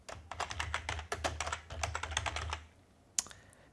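Rapid, uneven keystrokes on a computer keyboard as a name is typed, close and crisp, ending in a pause and a single louder key press, with no voices.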